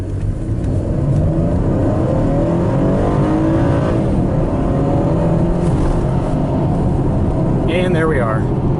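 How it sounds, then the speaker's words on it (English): A 2013 Chevy Camaro in sport mode accelerates hard through a 0 to 60 run on a rough road surface, its loud engine roaring steadily from inside the cabin with a rising whine near the end. "put it in sport mode. Let's go ahead and do a little 0 to 60 run"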